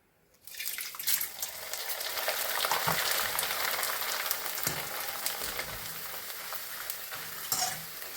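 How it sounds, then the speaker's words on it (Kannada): Corn flakes drop into hot oil in an aluminium wok, the frying bursting from quiet into a loud, close, bubbling sizzle with stirring clatters and occasional sharper crackles. "ಈಗ ನಾನು ಕಾರ್ನ್ ಫ್ಲೇಕ್ಸ್ ಹಾಕ್ತಾ ಇದ್ದೀನಿ."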